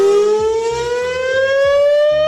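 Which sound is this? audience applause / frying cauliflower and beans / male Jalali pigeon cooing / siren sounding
siren sounding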